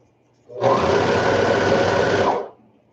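A sewing machine runs in one smooth burst of about two seconds while stitching kids' lounge pants, a close, steady whirring hum that starts and stops cleanly against a quiet room.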